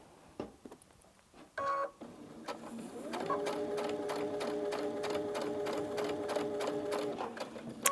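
A sewing machine stitching a seam on a soft rag quilt runs steadily and close, its rapid needle ticks going from about three seconds to seven, after some brief handling noises and a short whir at the start.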